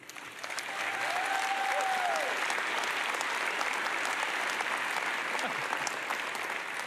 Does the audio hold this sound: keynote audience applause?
yes